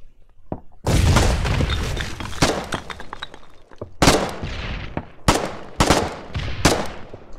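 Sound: grenade explosion in the video game Foxhole

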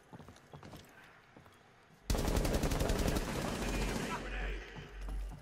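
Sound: gunfire in the video game Rainbow Six Siege

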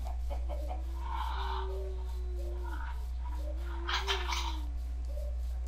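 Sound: chickens clucking in a video game

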